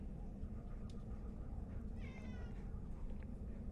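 Cat in the Dragon Age: Origins video game giving a short, faint meow over a steady bed of ambient game noise and hum, the cry brief and midway through, with no voices.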